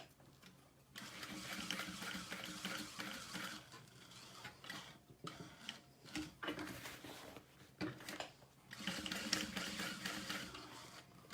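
A sewing machine runs stitch after stitch through vinyl for a tote bag, set to a long stitch length, in several loud whirring bursts split by brief pauses where the machine stops and restarts.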